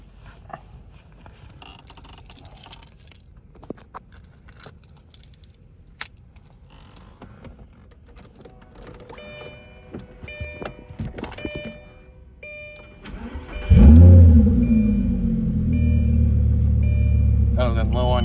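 A Lamborghini Gallardo Performante fitted with an aftermarket touchscreen radio cranks and fires up partway through, then settles into a loud, steady close-up rumble after a few quiet cabin clicks and rustles.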